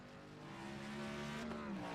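Race cars in an oval-series racing video game at Charlotte Motor Speedway run their final lap, a steady engine drone swelling slightly and holding with a brief higher pitch sweep near the end.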